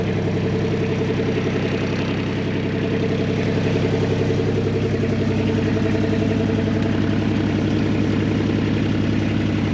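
A car engine, restarted, idles steadily in neutral: a low, even rumble with a regular pulsing throb, close and fairly loud, continuing unchanged throughout without talking.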